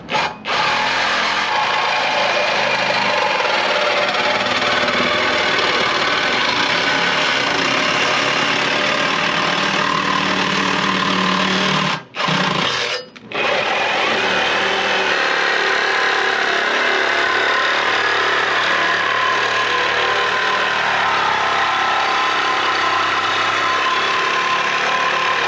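Police car with its mufflers cut out, engine running with a loud, steady broadband exhaust drone close by for most of the stretch, broken by a brief cutout in the middle before the rumble resumes.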